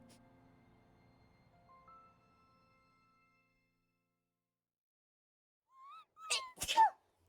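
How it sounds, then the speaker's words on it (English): A single sharp human sneeze near the end, close and abrupt, after a stretch of faint background sounds and near silence. "Sorry, I sneezed."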